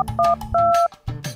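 A telephone keypad is dialed with a quick series of electronic tones, several short beeps in fast succession, close and clear.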